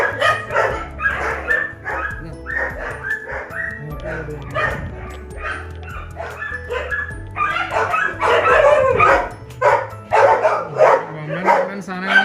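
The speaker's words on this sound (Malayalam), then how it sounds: "ഭയങ്കര നിറയെ നായ്ക്കളുണ്ട്" Many large hounds at a dog farm kennel in Coorg bark and yip in repeated, overlapping bursts, some close and loud, while people talk over them.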